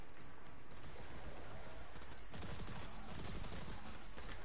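Rapid video-game gunfire crackles in dense, continuous bursts, loud and close, with overlapping shots forming a steady barrage throughout.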